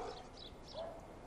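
A family's red dog gives short, faint barks and yips in a quick burst over a low background hiss.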